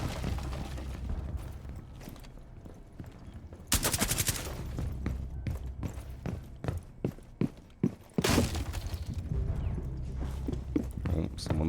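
Automatic gunfire from Twitch's weapon in a tactical shooter rattles out in rapid sustained bursts, with dense clusters of shots and brief pauses between them, loud and close, mixed with footsteps and people talking.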